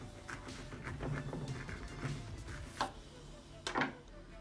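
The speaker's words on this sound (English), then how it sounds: "This is orange. I have to cut the orange." A knife cuts through an orange on a board in a home kitchen, giving a handful of soft, close, irregular chopping taps over a quiet background.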